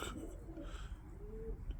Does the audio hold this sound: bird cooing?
yes